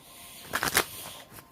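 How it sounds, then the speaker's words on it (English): A deck of tarot cards riffled for a brief burst of quick papery flutters lasting under a second, close and fairly soft against a quiet room. "I already pre-shuffled the cards, but I'll give it a few more shuffles"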